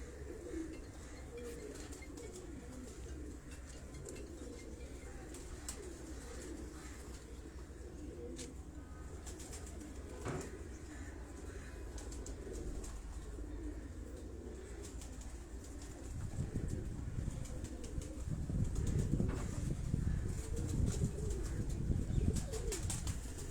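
Breeding pigeons coo in low, repeated throaty calls through a quiet loft, growing louder and denser toward the end, with faint chirps and no talking.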